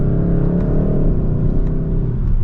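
Cabin of a 2022 Kia K5 GT with its turbocharged engine pulling under acceleration, a loud, steady low rumble and whir that builds slightly, with no one talking.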